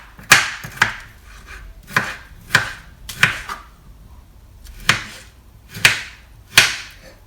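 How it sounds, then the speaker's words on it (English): A knife chops a pear on a cutting board in about nine sharp, close knocks at an uneven rhythm, with quiet gaps between strokes and no talking. "So now you've decored it, you're basically going to chop your pear."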